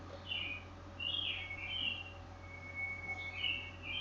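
Several birds chirp and tweet in short bursts in the morning outdoors, fairly distant, over a steady low traffic-like hum with no talking.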